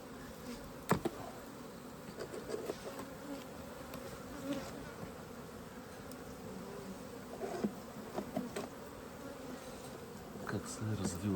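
Honeybees in a transparent hive give off a steady, soft droning buzz with occasional louder passes close by, and faint human sounds can be heard now and then.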